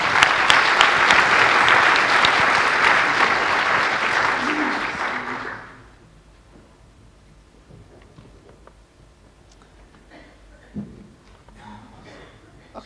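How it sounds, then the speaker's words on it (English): An audience claps loudly and continuously for a speaker at a talks event, the applause holding steady for several seconds before tapering off into quiet room noise with a few scattered sounds. "let's give our speaker another round of applause"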